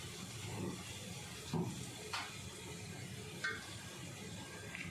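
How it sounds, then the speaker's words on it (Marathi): Oil heats and sizzles in a pan for Kolhapuri tambda rassa, a faint steady hiss with a few soft clinks and scrapes of a utensil against the pan, no talk. "थोडं जास्त तेल टाकते मी तेल छान गरम होऊ देऊया आपण"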